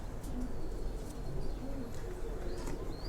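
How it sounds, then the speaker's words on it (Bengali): Pet flying pigeons coo in a loft, soft low calls repeating over a faint background hum, with a few small chirps scattered through. "এই যে আমাদের উড়ানো কবুতর মাশাআল্লাহ"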